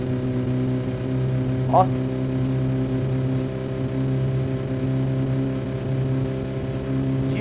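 Engine of a car in the video game My Summer Car, overheating and strained, drones steadily with strong tonal harmonics, close and sustained; a brief exclamation is heard over it.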